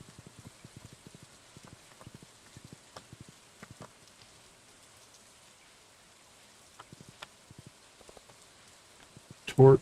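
Light rain patters in the Stardew Valley video game as scattered soft drops and ticks over a quiet background, ending in a sudden louder burst.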